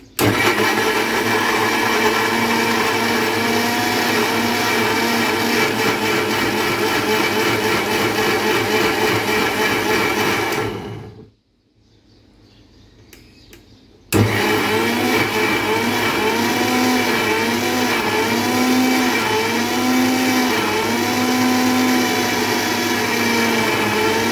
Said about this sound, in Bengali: আমি এখন ব্লেন্ডারে ব্লেন্ড করে নিচ্ছি।